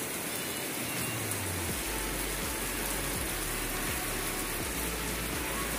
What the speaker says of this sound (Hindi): इतनी तेज बारिश है